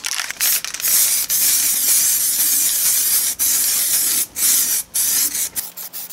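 An aerosol spray paint can sprays primer onto a steel wheel rim, loud bursts of hissing spray broken by short pauses between passes, close and alone.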